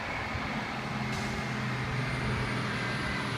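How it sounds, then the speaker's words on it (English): Big truck working its way up a hill with oncoming traffic held back, a continuous low diesel engine rumble under faint road noise, steady and moderately distant, with a brief hiss partway through. "So we got the big truck. He's down there in that hill."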